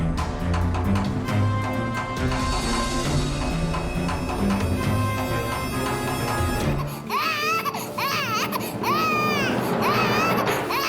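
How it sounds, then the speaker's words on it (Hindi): In a crime drama scene, dramatic background music plays first, then an infant wails loudly in repeated rising and falling cries, near and sustained. "माँ जी, इतने समय से बच्चा रो रहा है"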